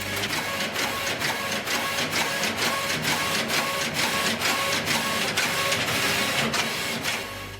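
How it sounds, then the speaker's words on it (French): Industrial computerized knitting machine knitting a sweater sleeve in a Normandy knitwear factory, a steady dense mechanical clatter with regular carriage ticks, continuous and fairly loud throughout with no voices. "Cette machine n'a plus qu'à lire le programme et tricoter la pièce en seulement quelques minutes."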